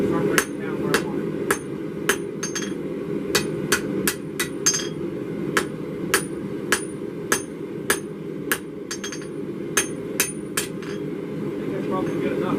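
Hammer forging a steel knife blade, sharp metallic strikes landing in a steady rhythm of roughly one to two blows per second, ringing clearly above a continuous low forge roar.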